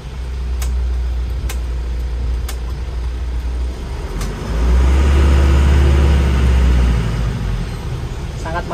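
An Isuzu Elf truck idles and rolls at low speed while parking, a steady low diesel rumble that swells briefly louder midway, with a few faint clicks above it.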